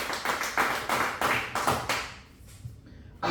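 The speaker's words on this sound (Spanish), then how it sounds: "Dale palmas a Cristo." Church congregation clapping in a steady unison rhythm during worship, about eight even claps that fade briefly before one more clap at the end.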